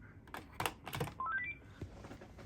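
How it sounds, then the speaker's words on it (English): A Panasonic KX-TGL463 cordless handset registering to its base, giving a few quiet key clicks followed by a rising sequence of short electronic beeps, heard close up without talk. "now we're going to register it back to the premium base"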